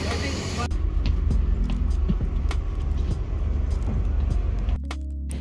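Road noise fills the interior of a vehicle on the way to Banff, Canada: a steady, loud low rumble that cuts out abruptly near the end, leaving a faint tonal hum.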